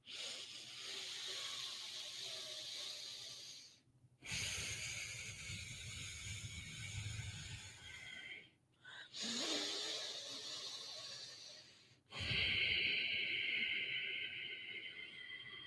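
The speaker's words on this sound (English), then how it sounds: "the slight constricting is kind of creating a sound when you breathe in and out" Slow breathing in and out through a deliberately constricted throat, a soft steady hiss on each long inhale and exhale with brief pauses between breaths, quiet and close.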